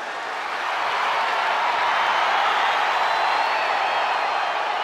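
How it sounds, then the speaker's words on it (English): A large arena crowd in the WWE 2K23 wrestling video game roars and cheers in a sustained, dense ovation that swells slightly and holds steady at full volume. "Listen to this ovation."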